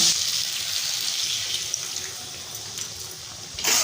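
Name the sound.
water added to a pan while cooking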